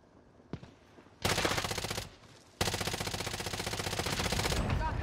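Automatic video game gunfire in Warzone rattles in two long, loud, close bursts of fast regular shots, preceded by a faint single pop.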